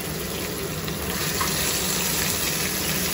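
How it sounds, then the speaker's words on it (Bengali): Eggs, soybean chunks and potato fry together in hot oil, giving a continuous loud sizzle and crackle close up, with no voices. "একসাথেই ভেজে নিচ্ছি সব"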